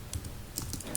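Keys tapped on a computer keyboard while code is typed into a C program, a few scattered, fairly quiet keystrokes with a slightly louder clack at the end.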